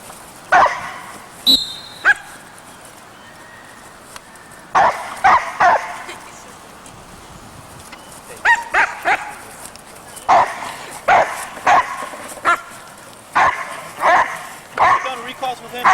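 Puppies in French Ring training bark and yip in repeated bursts across an open training field, some sharp and close, others farther off, with a person talking and giving commands between the barks.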